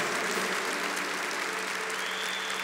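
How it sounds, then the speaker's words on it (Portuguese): A congregation claps steadily at a Catholic charismatic worship gathering, dense continuous applause filling the space with a faint crowd murmur. "Se essas palmas são para o Senhor, pode ser mais forte"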